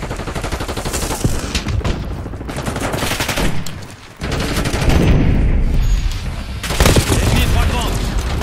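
Gunfire in the video game Call of Duty: Black Ops 6, including pistol shots, comes as dense, rapid, loud bursts with only brief lulls, mixed with game voice callouts.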